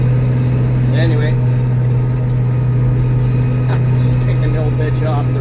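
An old heavy pickup pushing through snow drifts over four feet deep drones with a loud, steady engine rumble close by. Someone talks faintly beneath the noise.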